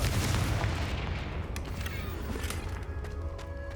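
The Confringo fire spell in the video game Hogwarts Legacy goes off as a loud booming explosion at the start, then fades into a rumbling roar with faint crackles and creaks.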